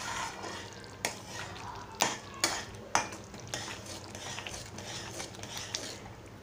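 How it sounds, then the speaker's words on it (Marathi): A spoon stirs milk in a metal pot while it simmers down for sheera, with soft continuous scraping and a few sharper clinks of the utensil against the pot's side. "तर दूध आटेपर्यंत असं ढवळत राहायचं आहे।"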